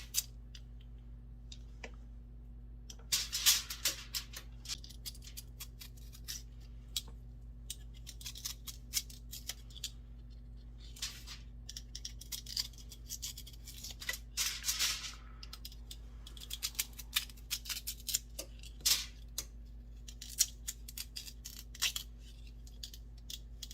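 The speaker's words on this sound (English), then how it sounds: "I might cut this little green end off" A green end is cut off a freshly harvested sweet potato in a long stretch of quiet, scattered cutting clicks and small snips, close up and irregular, with no voices.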